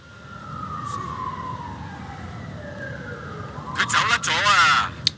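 Police car siren wailing in the video game Watch Dogs 2, a steady rising and falling tone across the clip, joined near the end by louder bursts of game noise and crashing.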